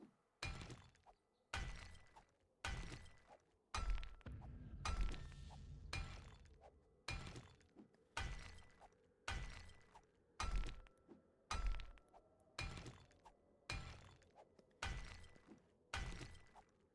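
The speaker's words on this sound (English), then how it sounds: "For this, I will use the fire axe." A fire axe chops into stone in the survival game 7 Days to Die, a steady run of about fifteen sharp cracking impacts, each followed by brief crumbling debris, evenly spaced about a second apart with quiet gaps between.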